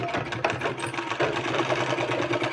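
A sewing machine stitching a kurta, a steady close mechanical whirring hum running throughout with no talking.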